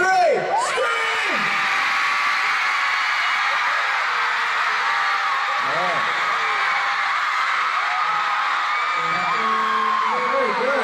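Concert crowd of fans in São Paulo screaming on cue, a loud sustained wall of shrieks and whoops from a large arena audience filling the whole stretch without letting up.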